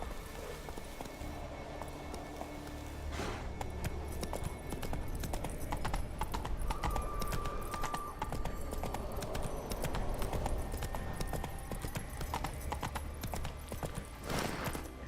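In Witcher 3, the horse Roach gallops across Skellige, with steady rapid hoofbeats clip-clopping nearby alongside faint in-game ambience.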